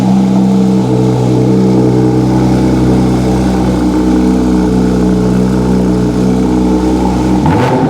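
A car with its original exhaust line idles and revs, a loud, steady engine drone close by that cuts off sharply near the end.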